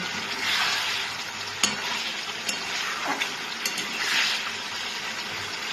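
Fish heads frying with cooked pumpkin in a pan give a continuous close sizzle, with occasional light clinks and stirring scrapes of a spatula.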